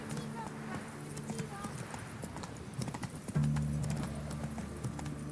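Hooves of Roach, a horse in The Witcher video game, clip-clop in a quick gallop beneath background music and a low drone, continuous throughout the short stretch.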